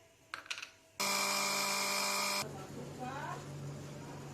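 Mustard seeds (rai) are ground for kanji in an electric grinder, a loud steady whirring burst about one and a half seconds long after some brief clatter, then quieter rumbling with a voice speaking.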